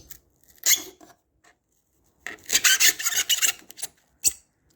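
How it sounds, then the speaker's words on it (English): A rasp shaves through cured expanding foam in a cabin: a short scrape, then a longer run of rough rasping strokes with squeaky scratches, ending in one more stroke, close and without speech. "Just shaving through this expanding foam, and it should, in theory, just pop out."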